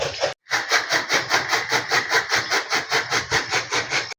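A chaff cutter chops fodder, loud and close. Its blades make a fast, even chugging beat of about five strokes per second, with a brief gap near the start before the steady rhythm resumes.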